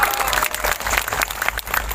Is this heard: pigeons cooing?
no